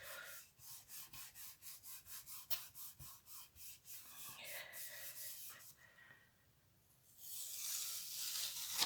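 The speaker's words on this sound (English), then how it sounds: "So straight into my card, rub down well." Card being rubbed down by hand onto a Gelli printing plate coated with paint and stencil layers, a close, steady run of rhythmic scrubbing strokes that pauses briefly before a louder burst of rubbing.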